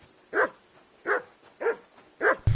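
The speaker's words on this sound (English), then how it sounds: "He's just barking." A dog barks in Kingdom Come: Deliverance II, four evenly spaced barks of moderate loudness coming at a steady rhythm with quiet pauses between them.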